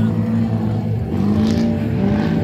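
Drift car engine at a 2024 Drift Indy event, bogging and losing power, a loud continuous low drone with uneven revs close by, under crowd and commentator talk.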